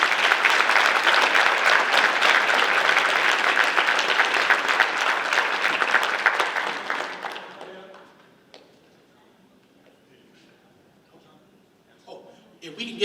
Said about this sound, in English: So let's clap it up, everybody, for Kaylee Simpson of Carver High School.